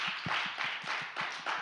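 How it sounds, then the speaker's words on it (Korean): A few people clapping for a teacher during an online student worship service, a thin, fairly even run of claps over a soft background hiss, brief and modest rather than a full crowd. "3학년 남자 안진옥 선생님 박수."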